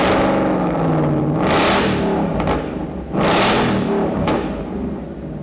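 A 2018–2023 Mustang GT fitted with a Roush axle-back exhaust, without active exhaust, revs twice in loud, close bursts over a steady deep idle, each rise sweeping up and falling back.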